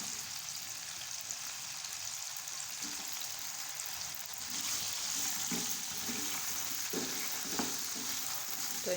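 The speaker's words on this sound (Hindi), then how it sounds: "तो इनको हल्का सा फ्राई कर लेते हैं।" Potato slices frying in hot ghee for achari aloo, a steady, fairly quiet sizzle with small crackles and pops running throughout, with no talking.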